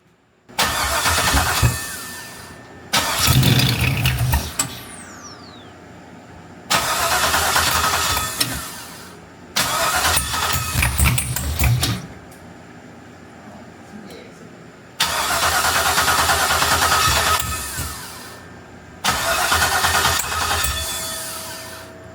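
An LS-swapped G-body Cutlass is cranked repeatedly, with several bursts of starter whir and engine catching, each lasting a couple of seconds and separated by quiet pauses, loud and close in a garage setting.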